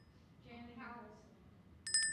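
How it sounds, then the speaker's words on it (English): A single bell is struck near the end of a remembrance ceremony for the dead, ringing out bright and clear with sustained tones after a stretch of quiet speaking. "We now invite you to say the names of your beloved dead as we ring a bell to remember them."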